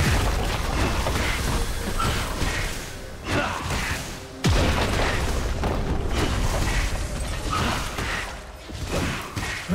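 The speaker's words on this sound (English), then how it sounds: "Red team's turret has been destroyed." A turret collapsing with a deep booming explosion in a League of Legends match, followed by crumbling crashes within a dense, loud wash of game sound effects, with no talk.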